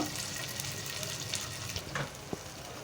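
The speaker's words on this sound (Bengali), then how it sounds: "এই যে আমি এখন এটা ভাজছি, চাপা শুটকি ভাজা হয়েছে" Dried chapa shutki fish fries in a pan with a steady, dense sizzle and a few sharper crackles and stirring clicks, close and continuous with no talking.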